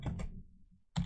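Keys on a computer keyboard clack in a short burst of a few strokes, a pause, then another keystroke, close and fairly quiet as a Linux command is entered.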